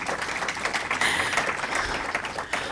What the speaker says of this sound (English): I think Kimron deserves an extra round of applause for